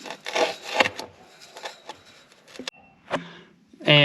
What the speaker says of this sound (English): now I'll be sliding the new starter up